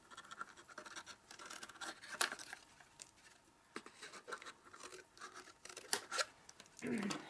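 Scissors snip through paper or card at close range while trimming a corner off a Santa-mustache table favor box, the cuts mixed with scratchy paper rubbing and handling noise in a quiet room.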